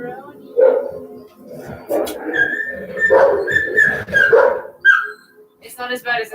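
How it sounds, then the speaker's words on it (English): Dogs bark and yelp in short, high-pitched bursts, one a dramatic female making fox-like noises, scattered through the clip with people talking close by. "Dramatic dogs. She thinks she's like a fox and she just makes a bunch of noise."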